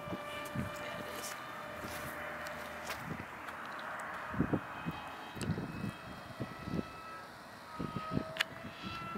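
A Hawk Sky model plane flies on a windy day, its faint engine drone steady and distant beneath wind noise, with a few scattered knocks and no talk.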